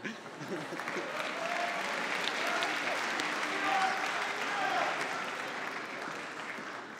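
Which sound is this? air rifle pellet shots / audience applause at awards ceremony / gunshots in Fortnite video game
audience applause at awards ceremony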